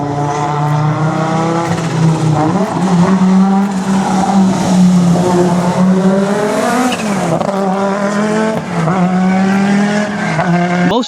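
A turbocharged four-wheel-drive Audi Quattro drives hard, its engine note rising and falling loudly through gear changes, with tyre squeal as it corners, close and continuous throughout.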